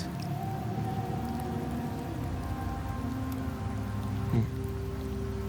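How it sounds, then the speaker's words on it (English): Steady rain patters on surfaces in Septimont, a place in the game Wuthering Waves. It goes on as a continuous hiss under faint tonal hums, with a brief thud near the end. "The rains in Septimont never seem eager to leave this season"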